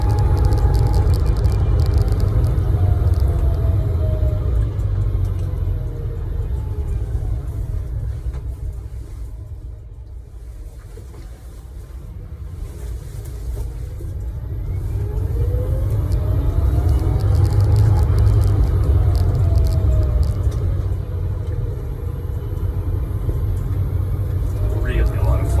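A Citroën Ami electric car on the move, a steady low rumble of road and tyre noise with a faint electric whine rising and falling, easing off midway before building again, with a person talking over it.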